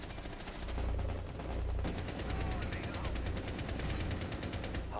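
Rapid bursts of automatic gunfire in the tactical shooter Rainbow Six Siege, sharp rhythmic shots repeating steadily across the moment, with brief pauses between volleys.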